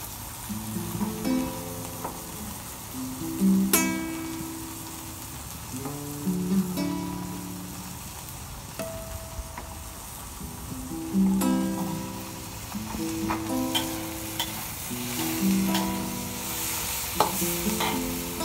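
Squid sautéed with green chili sizzles steadily in a pan as tomato goes in, with scraping and stirring sounds returning in bursts throughout at moderate volume.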